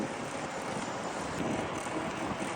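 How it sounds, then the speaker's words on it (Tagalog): Steady broadband rush of wind buffeting a microphone while mountain biking, constant and fairly loud throughout, with no talking. "Salubong tayo sa hangin."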